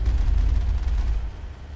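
Gunfire in the video game Mass Effect: a dense, loud, low rumbling barrage of shots and blasts that runs through the whole stretch and eases slightly toward the end.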